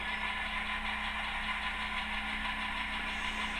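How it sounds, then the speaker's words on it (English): A Tsunami2 sound decoder in a model diesel locomotive plays its prime mover at moderate speed, a steady throbbing engine drone with a low rhythmic pulse, even and unbroken, with no talking. "So now our locomotive is moving along at speed step 10"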